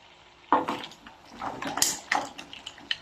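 Boiled mussels are stirred in a pan, their shells clattering and scraping against the metal in quick, uneven bursts, close and moderately loud, with a faint wet undertone.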